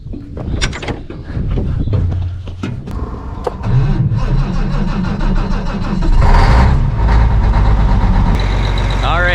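A farm tractor's engine turns over and catches, then settles into a loud, steady idle as it warms up, its rumble rising slightly toward the end, with no voices heard.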